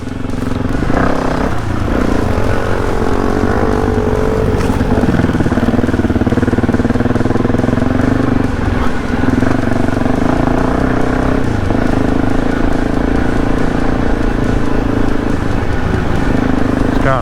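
A dirt bike rides at speed, its engine droning steadily and loudly from start to finish with small shifts in pitch, heard close, as if from the rider's position, with faint talk underneath.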